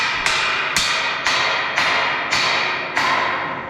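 Hammer blows strike wood in a steady rhythm, seven loud sharp knocks about half a second apart, each ringing briefly.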